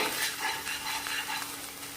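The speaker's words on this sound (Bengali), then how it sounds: "কড়া গরম হয়ে যাওয়ার পর আমি পেস্টটা দিয়ে" Spice paste sizzles loudly in a hot kadai, a dense, steady frying hiss with faint stirring scrapes and no talking.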